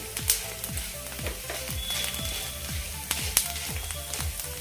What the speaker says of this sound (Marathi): मी सर्व इन्ग्रेडियंट्स व्यवस्थित असे तेलामध्ये परतून घ्यायचे आहे